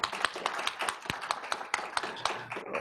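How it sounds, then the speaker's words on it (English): A small seminar audience claps for a book-writing session presenter, a sparse stretch of individual hand claps at an uneven rhythm, fairly quiet and close, with no talk over it. "Let's give him a round of applause."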